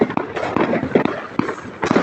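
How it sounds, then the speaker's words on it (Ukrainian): Fireworks bursting outdoors on a winter night, a rapid series of loud sharp cracks and bangs close by, with faint voices in the background. "Что тут у нас за фейерверки?"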